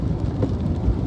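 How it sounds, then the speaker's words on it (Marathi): Heavy, continuous monsoon rain drums down during a road journey toward Dondaicha, a thick, steady low roar with a rumbling undertone and no pauses. "लय पाऊस आहे"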